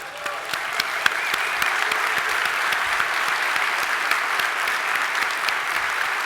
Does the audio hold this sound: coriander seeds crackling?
no